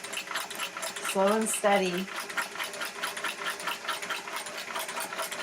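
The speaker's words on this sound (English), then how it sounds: "Now we are ready to stitch. I'm going to let the machine do all the work." A vintage sewing machine with a buttonholer attachment runs steadily at a moderate pace, a continuous mechanical whir and rapid stitching rattle throughout, briefly under a woman's short spoken remark.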